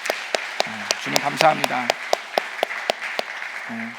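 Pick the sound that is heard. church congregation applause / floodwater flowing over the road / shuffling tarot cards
church congregation applause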